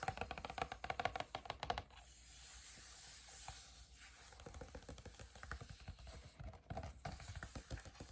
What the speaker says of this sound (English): I really like page tapping.